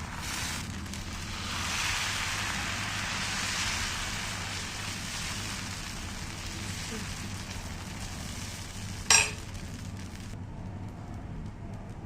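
Thin kara dosa batter sizzles on a hot dosa griddle at a Chennai street food stall with a steady, rain-like hiss. One brief sharp click cuts through near the end.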